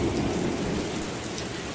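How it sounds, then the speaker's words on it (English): A video game thunderstorm with heavy rain: a dense, loud wash of downpour with a deep rumble of thunder beneath it, steady across a brief moment and with no voices. "The thunder's so loud it sounds like the goddamn world is ended."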